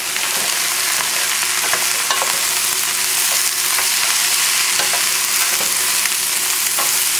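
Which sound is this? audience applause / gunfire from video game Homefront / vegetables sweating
vegetables sweating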